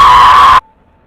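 A woman's loud, sustained high-pitched scream from a horror film, piercing and close for about half a second before cutting off abruptly into silence.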